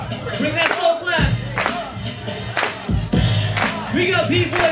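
Crowd at a breakdance event doing a slow clap, with loud, evenly spaced claps about every second and cheering and a voice on top.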